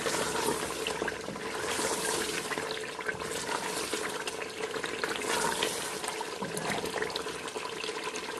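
Mutton korma masala with almonds frying in oil, a steady, even sizzle that fills the whole stretch, close and low in level, with no voices.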